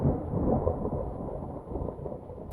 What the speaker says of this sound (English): a recording that I made of a thunderstorm